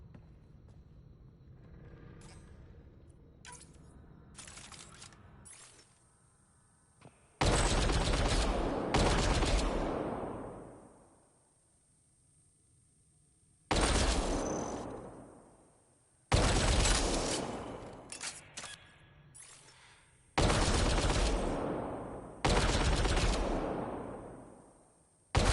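Video game gunfire from Mass Effect Andromeda: several loud, sustained bursts of automatic weapon fire, each lasting one to two seconds with a short fading tail, separated by brief pauses over quieter game ambience.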